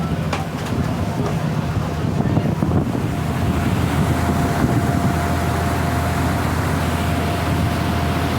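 A boat cruising on the Mediterranean Sea off Gozo, Malta, gives a steady close roar of engine and rushing water, with wind buffeting the microphone throughout.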